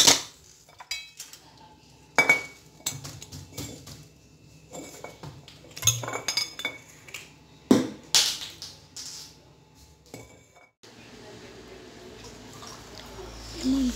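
A spoon stirs sugar and oil together in a bowl for a homemade foot scrub, making close, irregular clinks and scrapes against the bowl with no talking, followed by a steadier soft rustling near the end.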